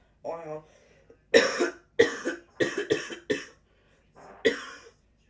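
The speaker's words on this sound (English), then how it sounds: "My cough is actually annoying me." A series of harsh coughs in short bursts, a few close together, after a brief throat-clearing sound at the start.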